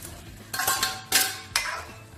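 Potato and tinda pieces drop into cooked masala in a pan with three distinct sizzling bursts, each a bright metallic scrape and splash that fades before the next. The sounds are close, with no talking.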